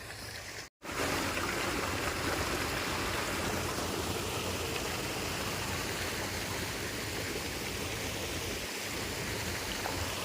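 A continuous, loud rush of water gushing out of three dewatering pipes driven by motors, broadband and steady after a brief cut near the start.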